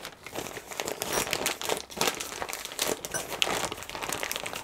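Meringue is pushed into a plastic piping bag, making a close, busy crinkling and rustling of plastic that runs through the whole stretch in uneven bursts.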